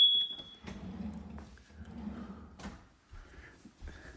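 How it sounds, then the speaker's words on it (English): A household smoke alarm in a kitchen gives one sharp, high electronic chirp at the start, signalling a low battery, followed by muffled room noise and movement. "they designed that alarm so you know it is time to change the batteries because it's actually disturbing how loud that thing is"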